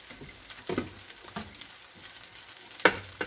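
Eggs go into a hot pan for fried rice and give faint, quiet crackling sizzles with a few sharper pops and spatters, with no talking.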